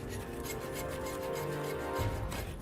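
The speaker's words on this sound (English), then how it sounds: "The hacksaw blade just wasn't up to it." A hacksaw draws back and forth across toughened steel bars in quick, rasping strokes, close and fairly quiet, with no voices.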